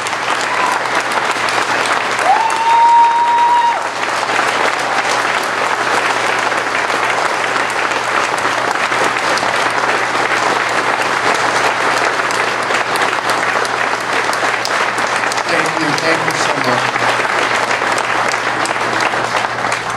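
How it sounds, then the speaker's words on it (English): Sustained applause from an audience honoring Robert K. Pfaff at a METRO transfer station renaming ceremony, dense and steady clapping for about twenty seconds, close and fairly loud without a break. "I'd ask you all to give him a great round of applause to show our appreciation for all of his hard work for many years."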